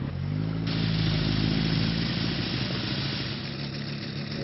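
A motorcycle engine idles with a low, steady throb and a burbling pulse. It holds roughly even throughout, slightly louder near the start, with no voices.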